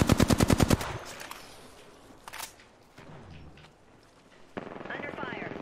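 Rapid automatic gunfire bursts loudly at the start of an Apex Legends match, then fades into scattered shots, movement and ambient game noise, with a brief whooshing ability effect near the end.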